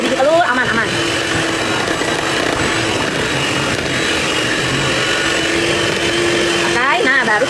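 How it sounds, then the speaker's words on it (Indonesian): An electric hand mixer whirs steadily and loudly as it beats eggs with powdered and granulated sugar for a sponge cake batter. The motor drones without a break, and someone speaks over it. "Kita mixer gula halus sama gula pasir."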